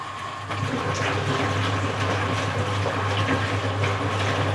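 A Rex RC 5221 LX washing machine pumps water out during a long prewash, a steady low pump hum under a rushing, gurgling flow that starts after a brief quieter moment and continues evenly.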